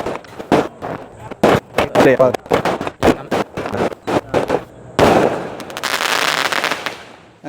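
Sivakasi firecrackers and fireworks going off outdoors: a rapid string of loud, close pops and cracks, followed by a sustained crackling, hissing burst of fireworks.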